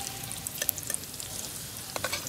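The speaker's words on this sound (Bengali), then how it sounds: "পেঁপেগুলো ভালো করে ভাজা হয়ে গেছে" Pieces of papaya fry in oil in a pan while being stirred for sukto, a continuous crackling sizzle with sharp pops and scraping clinks, moderately loud and close, with no talking.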